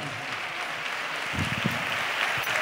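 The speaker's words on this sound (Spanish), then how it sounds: "Un fuerte aplauso." An audience at a carnival proclamation event in Ronda applauds, a continuous crowd of clapping with a few louder bursts up close.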